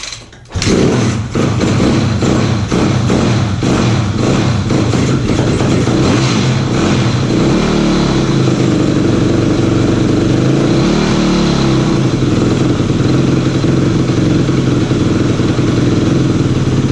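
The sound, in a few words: 2005 Yamaha YZ250F dirt bike engine starting and idling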